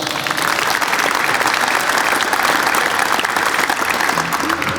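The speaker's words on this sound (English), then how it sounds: "Let's give these guys and these coaches a great round of applause." An audience at an athletic gala applauds loudly and continuously for athletes and coaches, a dense, even wash of clapping that holds at full strength throughout.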